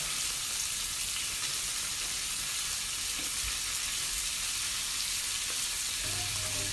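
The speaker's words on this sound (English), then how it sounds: "put the vegetables in here and get them sauteed" Onions, celery, parsley and garlic sautéing in oil in a pan, a steady close hiss and sizzle running throughout with faint stirring clicks, no talking.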